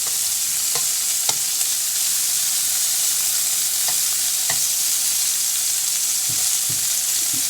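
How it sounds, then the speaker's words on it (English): Small pieces of food sear in a hot pan after being flipped, giving a loud, steady sizzle with occasional scraping clicks from stirring and no voices. "So now I'm going to flip over all my little pieces so that way they can evenly brown on both sides."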